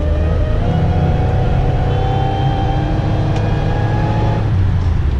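A supercharged Grand Prix GTP engine accelerates with a steady drone and an uneven, faltering, hesitant pull, plus a faint, odd-sounding whine from the supercharger, loud and close.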